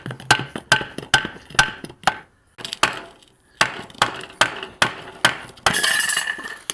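Small hammer tapping on metal during teardown of a brake can, about a dozen sharp, ringing strikes in an uneven rhythm with a short pause midway, close and fairly loud, then a denser metallic rattle at the end.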